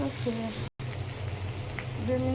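Food sizzling as it fries in hot oil, a soft, continuous crackle with a low steady hum beneath it and a brief cut to silence partway through.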